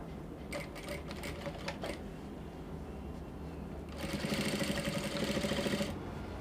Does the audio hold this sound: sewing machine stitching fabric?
yes